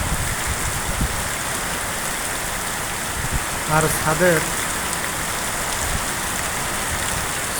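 Steady heavy rain pours onto surfaces during a stormy downpour with gusty wind, a dense continuous hiss, while a voice speaks briefly midway.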